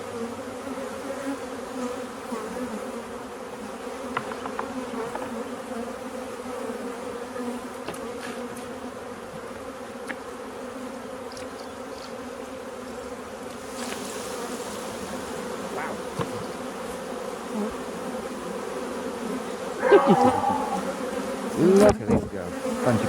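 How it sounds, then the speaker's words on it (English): A swarm of honey bees hums in a steady, dense drone, with individual bees buzzing close past now and then and a louder pass near the end, no talk. "But there's a fair few bees down there, and there's lots in the air still as well."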